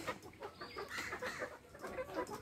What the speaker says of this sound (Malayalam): നാടൻ കോഴി കുഞ്ഞുങ്ങളും കൂടെ ഉണ്ടെന്നാണ് വിചാരിക്കുന്നത്